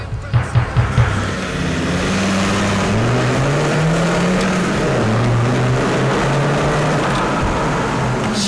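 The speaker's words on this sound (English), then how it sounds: "here's the launch with the stage 2 remap" A Land Rover TD5 diesel with a stage 2 remap launches hard after a few short revs, its engine note climbing loudly through the gears in a sustained close-up pull.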